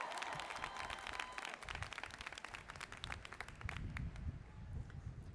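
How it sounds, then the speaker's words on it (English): A graduation audience at an occupational therapy commencement claps and cheers in sustained applause, dense and steady, heard from some distance and fading slightly toward the end. "Let's cheer that."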